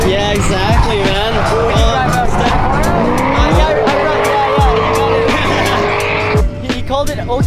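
Tires on a drift-build car squeal loudly and continuously as it slides at a street drifting event, with engine roar rising and falling, sharp bangs, and people talking underneath.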